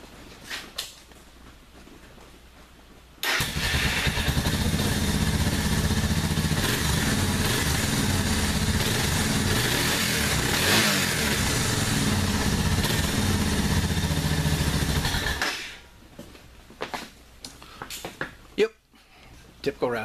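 A motorcycle fitted with a Dominator exhaust runs close and loud, with a sustained roar that swells with throttle before dropping away; quieter sounds and faint talk surround it.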